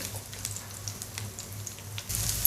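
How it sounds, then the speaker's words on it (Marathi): Onion softening in hot oil in a pan for a traditional Bhogi vegetable dish, giving a steady low sizzle and crackle with soft pops, close and fairly quiet, growing brighter and louder near the end. "आता तेल गरम झालं आहे त्याचं हा कांदा पहिला नरम करून घेऊया"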